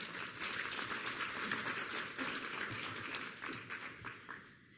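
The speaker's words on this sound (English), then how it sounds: "I think that deserves a round of applause." A hall audience at a Hispanic health summit claps in a fairly faint, dense wash of applause that holds steady and then thins toward the end.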